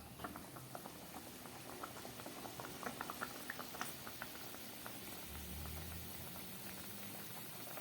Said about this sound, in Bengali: আলুটা কষাতে কষাতে অনেকটাই সিদ্ধ হয়ে গেছে মাছের ঝোলটাও ফুটে উঠেছে